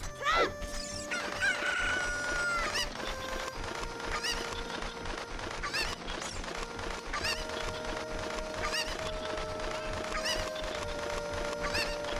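Chickens crow and cluck repeatedly in Kakariko village in The Legend of Zelda: Ocarina of Time, a rooster call standing out early among background game music and ambience.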